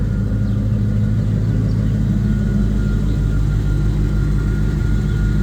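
A 1991 Formula boat engine with a chambered GMMG exhaust idling in a steady, loud, deep rumble that holds even throughout, no talking.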